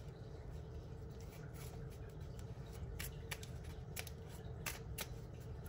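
Playing cards are riffled and shuffled close by, a steady papery fluttering with sharper snaps, over a low background hum and no talking.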